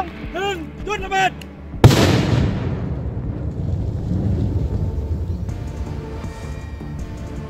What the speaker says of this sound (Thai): จุดระเบิด